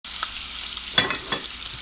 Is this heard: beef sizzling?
yes